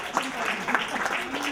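Short burst of studio audience applause for a radio station, Kiss FM, at a book discussion event, dense steady clapping of moderate loudness with some voices mixed in underneath.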